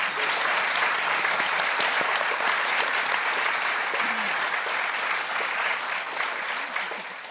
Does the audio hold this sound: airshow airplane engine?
no